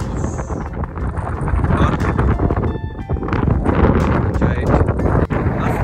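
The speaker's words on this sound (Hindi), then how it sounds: "यहाँ पर देखिए बहुत तेज हवा चल रही है" Strong desert wind gusts on a safari at Ramal, roaring steadily across the microphone for the whole stretch while someone talks over it.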